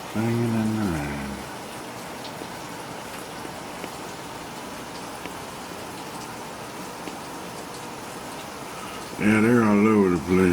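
Steady rain falls in a backyard where turkeys gather, making a continuous soft hiss of drops. Someone talks briefly at the start and again near the end.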